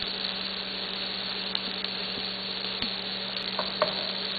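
Fajita meat frying in a pan gives a steady close sizzle with soft crackles and a few light pops or stirring clicks, continuous and moderately quiet, no voices.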